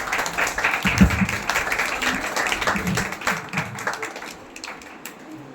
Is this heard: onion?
no